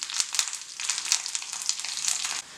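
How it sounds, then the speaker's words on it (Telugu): Tempering in hot oil for a beetroot coconut fry, with halved dried red chillies and curry leaves crackling and spitting in close, rapid bursts of sizzle, with no talk. "ఇది మన పోపు కొంచెం చిటపట్లాడే వరకు వేయించుకోవాలి"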